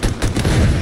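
A short burst of loud close gunfire in Halo Infinite, booming shots blending into a dense rumbling volley, with no voices.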